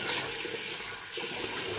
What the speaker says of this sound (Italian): Adesso io aggiungo un po' d'acqua